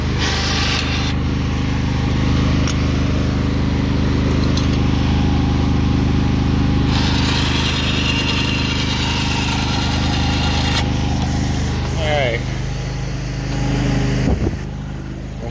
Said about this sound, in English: I gotta leave the stupid lawnmower running.